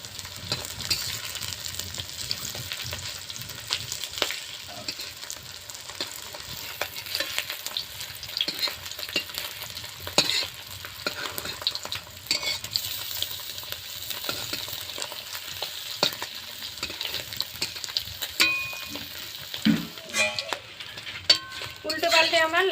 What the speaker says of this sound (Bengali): বেশি ভাজবো না, হালকা করে।